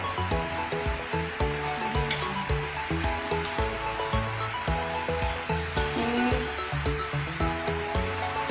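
Pancake batter poured into a pan on low heat gives a steady, close hissing sizzle throughout, broad and continuous, with faint clinks and kitchen noise underneath.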